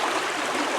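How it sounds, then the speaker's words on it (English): Stream water at a homestead flowing steadily, a brief continuous rushing wash at moderate level with no voices. "you listen to the water"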